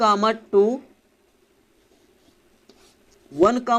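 Chalk or marker scratches faintly on a board during a Class 12 maths lesson on relations and functions, a quiet writing stretch between bursts of a teacher's speech.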